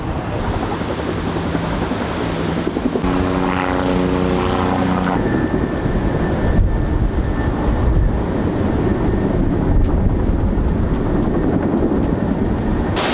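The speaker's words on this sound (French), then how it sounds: "il y a les hélicos qui sont en train de dropper de l'eau là pour essayer d'éteindre le feu" Firefighting helicopters dropping water on a wildfire drone steadily and loudly through the whole stretch, a continuous rotor and engine roar with no talk.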